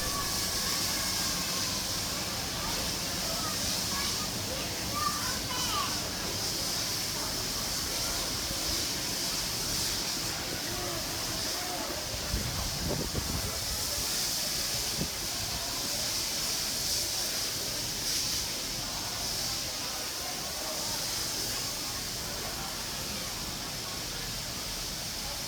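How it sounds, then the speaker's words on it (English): Steam locomotive 6029 pulls out of Central station on a heritage shuttle train to Hurstville: a steady, broad hissing roar fills the scene, with one brief deeper rumble partway through. "We move to Central and see 6029 leaving on one of its shuttle trains to Hurstville."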